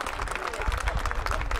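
Brief burst of audience clapping for two young mariachi musicians at a concert in Las Vegas, dense and steady for a moment.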